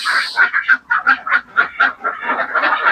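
Ducks at a duck farm quacking close by in a rapid, continuous chorus of nasal calls with no voices over them.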